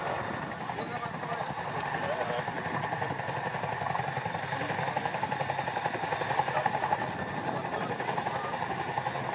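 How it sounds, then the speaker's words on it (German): A Chinook tandem-rotor helicopter hovers during an external load handling demonstration at the ILA Berlin air show, a rapid rhythmic rotor chop over a steady engine drone, moderately loud and continuous, with faint talk beneath. "Der Hubschrauber ist wieder in der Luft."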